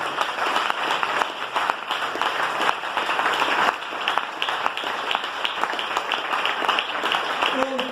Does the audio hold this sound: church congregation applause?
yes